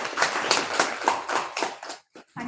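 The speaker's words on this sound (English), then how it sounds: "A huge round of applause for each one of us." A crowd at an entrepreneurship centre event gives a short burst of applause, with dense clapping that thins out and stops after about two seconds.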